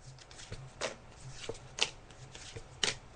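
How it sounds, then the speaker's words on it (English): Tarot cards being shuffled by hand, a run of soft papery riffles and slaps with a few sharper snaps, close and fairly quiet, with no talking. "So I'm just shuffling the cards now"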